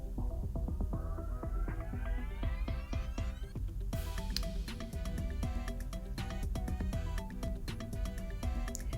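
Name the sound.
blender pureeing spices for jollof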